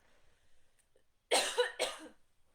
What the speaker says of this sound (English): that's interesting that I coughed there